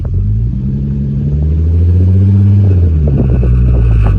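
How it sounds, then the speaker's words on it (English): A VR6 turbo-swapped MR2 Roadster pulls hard in fourth gear. The engine drone is loud and close and rises steadily in pitch, with a deep rumble underneath and no talk. "How do you accelerate that fast in fourth gear?"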